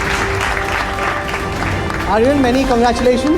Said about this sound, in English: a huge round of applause for Aryan Khan